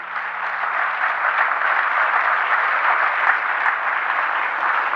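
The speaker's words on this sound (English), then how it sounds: "Let's give each and every one of you a big round of applause." Audience applause at a speaking event, a steady, dense wash of clapping from a crowd lasting the whole stretch without a break.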